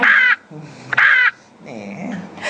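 A crow cawing, played as a sound effect: three loud, harsh caws close up, the first two sharp and even, the third rougher and drawn out, with short gaps between them and no voices.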